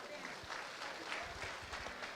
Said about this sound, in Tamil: பெரிய கைத்தட்டல் சார், பெரிய கைத்தட்டல்.